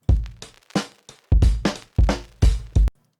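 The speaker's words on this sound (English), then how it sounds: "I already have picked out a drum loop that I like elements of." A chill drum loop sample plays as a series of punchy, separated hits with sharp decays in an uneven groove, loud and alone, ending abruptly after a final short hit.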